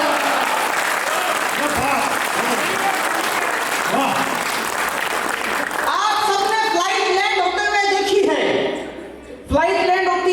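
Loud, dense applause from a large audience at an all-India poetry recital honoring a late former minister in Khariar, rising and falling over ten seconds, with laughter and a voice cutting through near the end.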